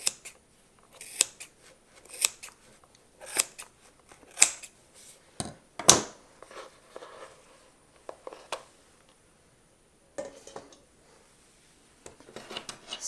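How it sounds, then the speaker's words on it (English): Scissors snip through the threads at one end of a scarf fringe, a series of crisp, close cuts in a steady rhythm with short pauses between them in a quiet room. "the next step in making the fringe is to cut the threads at one end"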